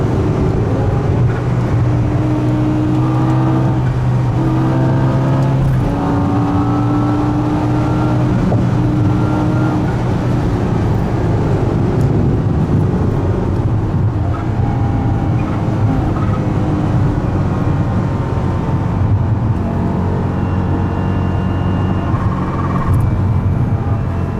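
An 800 HP G-Power BMW M5 V10 Bi-Kompressor Hurricane RR accelerates hard on a German Autobahn, its loud engine tone rising through gears with continuous road and wind roar from inside.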